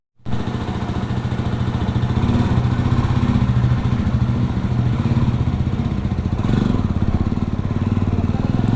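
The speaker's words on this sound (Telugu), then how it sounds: "So let's jump on the bike." A 2024 Jawa 350 motorcycle starts up and runs close by, a loud steady thumping single-cylinder beat that holds even throughout with a brief rev swell.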